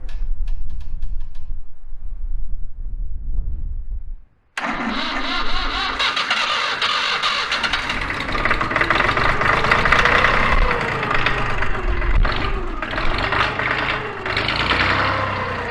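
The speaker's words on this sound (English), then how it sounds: "The engine cranked over slower than it normally does with the regular battery, but it did start it" A small 2.5-liter diesel tractor engine with glow plugs cranks slowly on a jump pack after a quiet pause, then catches and settles into a loud, steady, slightly knocking idle.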